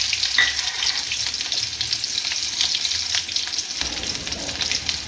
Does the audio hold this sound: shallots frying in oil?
yes